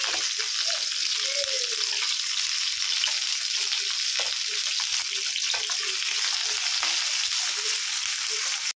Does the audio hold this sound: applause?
no